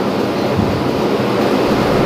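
Muddy flash-flood water rushes down a mountainside in Nepal, making a loud, continuous broadband roar that never lets up, with no voices over it.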